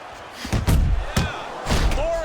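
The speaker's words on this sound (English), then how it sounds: "Ortiz is jacked by an uppercut." Heavy punches thudding in a boxing match between Tommy Morrison and Luiz Ortiz, an uppercut among them: several loud, sharp impacts in quick succession over a bed of background noise.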